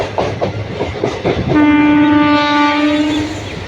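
A passenger train thunders at speed past Ponmalai station on the Karur to Puducherry route, rumbling loudly and steadily with a long, sustained horn blast sounding through the middle and later part.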